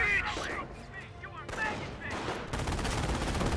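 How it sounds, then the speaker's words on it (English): A G43 rifle squad fires away in the Company of Heroes 1 strategy game, sharp overlapping shots in uneven bursts that ring out over battlefield noise, with a voice talking over the action. "G43 squad firing away, keeps missing that Rifleman."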